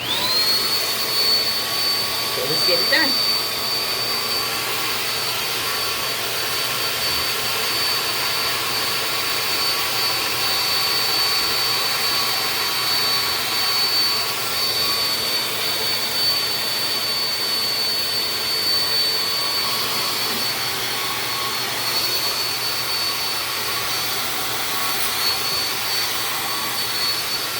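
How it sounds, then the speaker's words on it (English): A small handheld hair dryer, damaged but still working, blows with a steady, loud whine and airy roar throughout, with a brief spoken phrase near the start. "I broke my little handy dandy blow dryer, but it still works."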